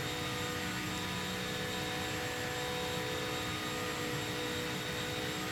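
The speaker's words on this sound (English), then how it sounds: "And then she'll start bouncing off the rev limiter." A race car engine in the Project Motor Racing video game holds a steady, loud, high-pitched whine at the rev limiter down a long straight, sounding alone and continuous.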